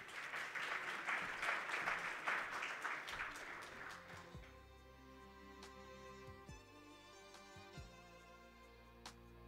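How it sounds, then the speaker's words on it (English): Audience applause at a national green hydrogen conference in Namibia, a dense patter of clapping that fades out after about four seconds, leaving quiet room tone with a few faint knocks. "You deserve a round of applause."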